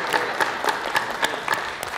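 Audience applause during a lunchtime historical society talk, heard as a steady run of overlapping claps at moderate, even loudness with no voices over it.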